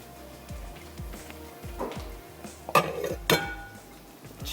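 A bowl comes out of a kitchen cupboard and is set down with a couple of bright ceramic clinks and knocks, over low background rumble and faint sizzling while okra fries.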